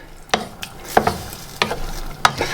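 A spoon stirs soy sauce and stock into gravy in a pan, giving four distinct scraping knocks spaced about every half second over a soft background hiss, close and fairly loud.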